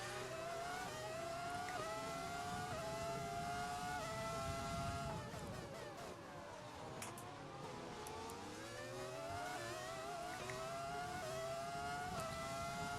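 Formula 1 race car engines in F1 2020 scream continuously, high-pitched and loud. They rise and fall through gear changes as two cars fight closely, with no talk over them.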